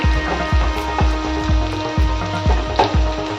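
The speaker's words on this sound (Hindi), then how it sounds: "प्याज को डाल के आराम से पहले भून देंगे" Onions frying in oil for palak paratha masala sizzle steadily and loudly, with a rhythmic series of low thumps and crackles repeating about twice a second throughout.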